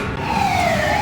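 An ambulance siren wails steadily and loudly throughout, its rising and falling tone sweeping continuously with no voices present.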